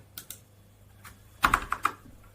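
Typing on a computer keyboard: a few scattered key taps, then a quick close burst of four or five keystrokes, crisp and alone in a quiet room.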